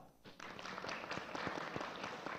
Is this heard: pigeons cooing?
no